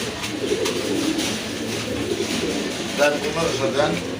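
Large pigeons, both local and foreign breeds kept for sale, coo repeatedly in soft, throaty, rolling calls close by, layered over a busy background murmur.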